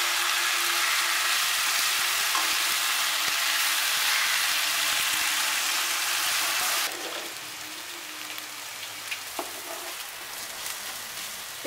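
Onions frying in a pan with a little sugar for mutton nihari, a loud, dense sizzle that suddenly drops to a softer crackle with a few scattered pops and clinks.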